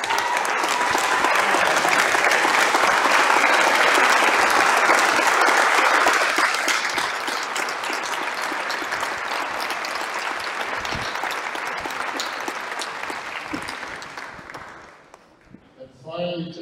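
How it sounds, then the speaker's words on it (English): An audience applauds outgoing town councillors at a municipal election candidates event, loud sustained clapping that fills the room, then gradually thins out and stops. "just so we can give them a round of applause"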